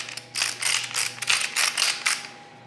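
Cracked pepper being ground over a steak with a mechanical grinder: roughly eight quick, crisp ratcheting bursts in an even rhythm, close and fairly clear, with no one speaking.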